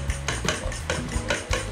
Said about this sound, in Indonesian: Ini dikocok dulu telurnya sampai rata